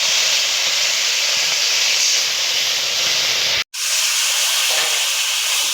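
Ginger paste and five-spice seeds fry in hot oil for an okra, potato and pond fish curry, producing a loud, continuous close-up hiss that cuts out briefly near the end.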